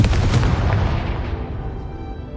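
Confringo blasting spell explodes in Hogwarts Legacy, a single loud booming blast that rolls and decays over about two seconds, heard alone.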